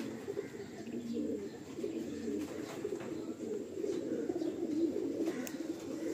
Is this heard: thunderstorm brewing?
no